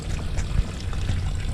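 Water gushes from a boat outdrive's drain plug into a bucket, a steady close splashing pour with trickling bursts running continuously under a low rumble.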